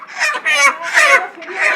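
Chickens cluck and squawk loudly at close range in a broiler poultry shop, several short overlapping bursts of calls with brief pauses between them.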